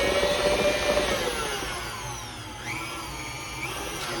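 An electric hand mixer whirs steadily through white wedding cake batter with flour, a loud continuous motor drone whose pitch dips and rises partway through as the beaters work the mix.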